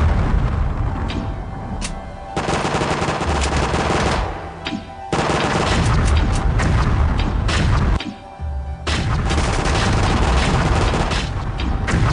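Dense rapid gunfire with heavy explosive booms from a shooter video game, loud and nearly continuous, broken by brief lulls, like a frantic firefight.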